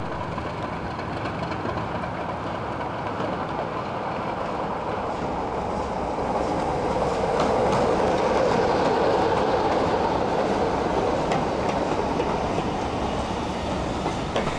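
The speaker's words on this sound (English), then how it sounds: "two BR Blue locomotives together, a Class 37 and the Class 24 heading southwards" Two BR Blue diesel locomotives, a Class 37 and a Class 24, passing together on a heritage railway: a loud, continuous rumbling roar and rail rattle that swells in the middle and holds steady, with no talking.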